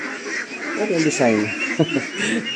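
Ducks on a modern duck farm housing about ten thousand birds give loud, close, nasal honking quacks in short bursts, mixed with a person talking.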